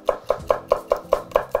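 A kitchen knife chopping a bell pepper on a cutting board: eight crisp, evenly spaced strokes in a quick steady rhythm, close and clear with no talk.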